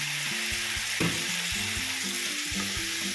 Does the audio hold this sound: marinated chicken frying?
yes